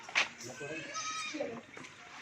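A pure Rajanpuri goat at a sale bleats in short, wavering, fairly close cries. Someone talks over them, and faint kid-like calls mix in.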